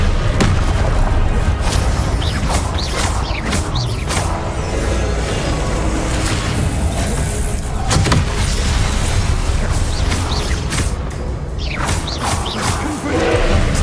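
Repeated Confringo blasting-spell explosions in Hogwarts Legacy, a steady barrage of booming thuds and bursts layered over game noise, loud and continuous throughout.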